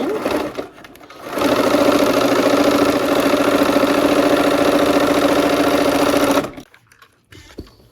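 A sewing machine stitches star-fabric half square triangles in one steady, loud, continuous run of about five seconds, starting and stopping cleanly with quiet handling noise on either side.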